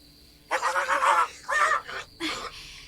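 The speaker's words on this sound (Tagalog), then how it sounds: "Kanina pa ang ingay ng mga manok sa labas." Chickens clucking and squawking outside, several loud bursts of cackling in quick succession against a quiet rural background, no talk.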